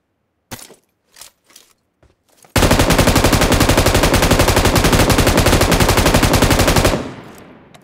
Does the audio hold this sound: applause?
no